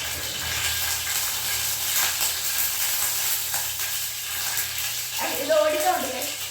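Mustard seeds splutter in hot oil at the start of a river crab sukka, giving a steady bright sizzle with a louder flurry of pops near the end.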